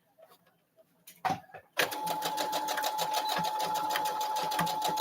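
A sewing machine in a home studio starts after a few soft handling clicks and runs in a fast, steady rhythmic stitching chatter, close and continuous to the end.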